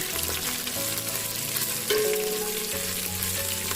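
Vegetable oil sizzles steadily in a pan during a stir-fry, a dense close hiss with a few soft stirring scrapes, and no voices over it.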